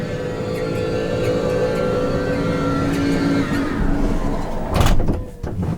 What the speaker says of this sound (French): pour fermer la porte latérale coulissante de l'intérieur, il vous suffira d'appuyer sur ce bouton.